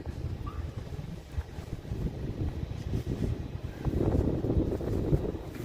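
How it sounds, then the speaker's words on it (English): Strong wind gusts buffet the microphone on the Las Vegas Strip at night, a steady low rumble that surges louder toward the end, with no talking. "Very windy out, very windy out."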